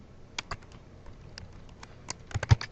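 Keys tap on a computer keyboard during entry of an order in Meditech 6 hospital software, irregular soft clicks that cluster into a quicker burst near the end.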